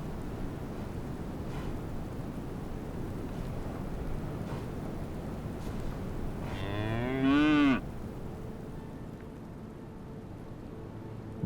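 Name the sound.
cow in labor mooing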